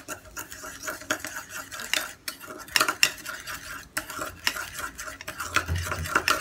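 A spoon clinks and scrapes steadily against a bowl while mixing fresh cream (malai) into a homemade face scrub, with close, irregular metallic taps throughout and no talking.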